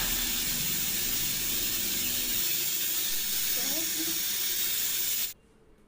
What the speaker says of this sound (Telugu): ఒక్క 4 విజిల్స్ వేసేంత వరకు హైలో పెట్టుకుని ఉడికించుకోవాలండి